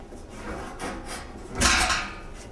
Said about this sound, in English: Now we just need to close the baffle back up by swinging it in